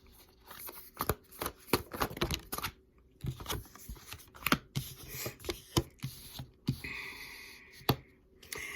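Tarot cards are shuffled close up in quick, irregular bursts of crisp riffling snaps and slaps, separated by brief pauses, with no talking.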